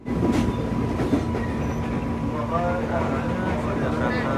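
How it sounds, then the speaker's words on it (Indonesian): A KRL commuter line train pulls away from Depok Baru station, a steady rumbling roar of wheels and motors from inside the carriage, with faint rail clatter. "setelah berangkat pastinya KRL akan tancap gas ya menuju pemberhentian berikutnya"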